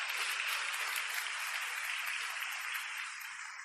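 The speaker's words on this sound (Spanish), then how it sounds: "Denle un fuerte aplauso a Jesucristo." A church congregation applauds in a dense, even burst of clapping that holds steady and eases slightly toward the end, with no voices standing out.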